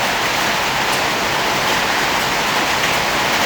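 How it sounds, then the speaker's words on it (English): Rain falling steadily, a loud, even hiss of drops striking surfaces, continuous and close with no pauses or voices. "It just started raining 5 minutes ago."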